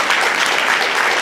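A brief, loud burst of dense applause from a convention panel audience, steady and unbroken with no voices.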